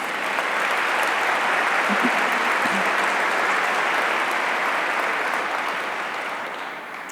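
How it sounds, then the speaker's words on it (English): Dense, steady applause from a large audience at a regional commission awards program, a full wash of clapping that holds evenly for several seconds and fades gently toward the end. "One more round of applause, please."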